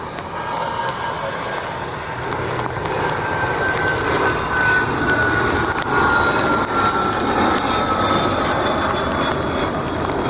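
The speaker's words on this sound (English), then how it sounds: "Got a Erie Shore SkyQuest Learjet inbound from Georgetown." A Learjet inbound on approach to Cleveland Hopkins airport produces a steady, distant jet roar with a faint descending whine, heard alone amid outdoor ambience.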